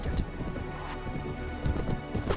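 Galloping horse hooves in the medieval combat game Mount & Blade: Warband, a rapid rhythmic clatter of hoofbeats over battle noise, close and fairly loud with a faint whinny.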